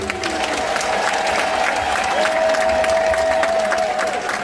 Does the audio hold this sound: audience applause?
yes